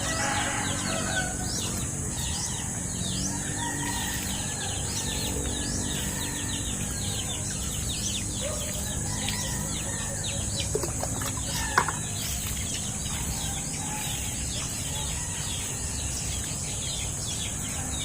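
Chickens clucking and chirping in a busy barnyard, with occasional wing flaps and a steady background hum throughout.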